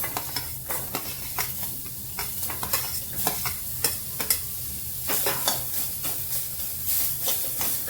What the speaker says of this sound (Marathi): तर मी काढून याच कढईमध्ये मी कांदा भाजून घेणार आहे.